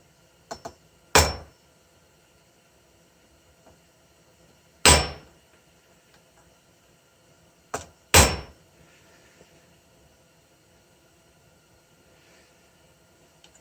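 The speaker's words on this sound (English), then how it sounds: "I'm just going to take this bolt and this hammer and pound it down" Sharp metallic hammer blows ring out as a bolt is pounded on a Toro 5/21 snowblower, about five strikes with long irregular pauses between them, close and loud.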